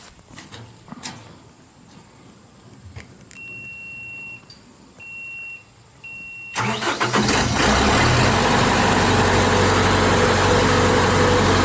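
A 2013 JLG 660SJ telescopic boom lift with a Deutz diesel engine: a few warning beeps and clicks, then the starter cranks and the diesel catches, settling into a loud, steady idle.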